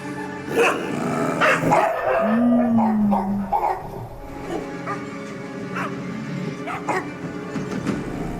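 Several dogs bark and yip in bursts, with one drawn-out whine or howl in the middle, fairly close and loud.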